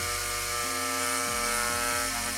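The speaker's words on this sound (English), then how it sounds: "we're just gonna start to drill that out very slowly at first." A power drill bores slowly into a plastic tabletop gaming case, a steady loud motor whine with stepped pitch changes as the speed shifts, heard alone without talk.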